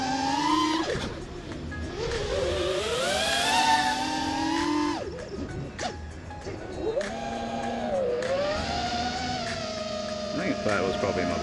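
Eachine Wizard X220 FPV drone motors whine loudly through a dive, their pitch sweeping up and down continuously as throttle changes, close and steady throughout.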